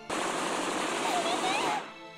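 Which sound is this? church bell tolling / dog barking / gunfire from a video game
gunfire from a video game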